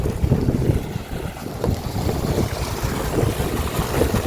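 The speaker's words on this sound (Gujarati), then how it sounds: "2 મોટર ચાલુ છે અને 2 મોટરનું પાણી જાય છે." Two water pump motors run outdoors in the rain, making a dense, steady rumbling drone mixed with rushing water and rain noise, with no voices.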